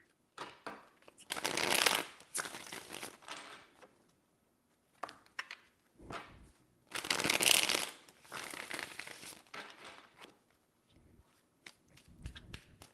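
Tarot cards are shuffled in three separate riffling bursts, close and crisp, with softer handling and tapping of the deck between them.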